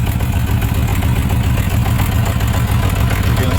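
A motorcycle engine idles with a misfiring cylinder, a loud, close, steady low rumble with uneven clattering pulses and no talk.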